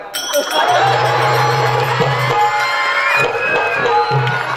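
Crowd at a comic bharud performance during a village saptah festival in Karole, cheering and whooping loudly after a mock wedding garland exchange, a dense, sustained wash of voices with a steady low hum underneath.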